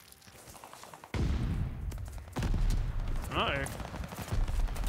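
Gunfire in a Call of Duty Vanguard multiplayer match: a burst of loud close shots starts abruptly and continues densely with further volleys, while players talk over the shooting.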